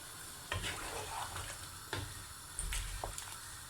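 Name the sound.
boiling water added to sizzling pan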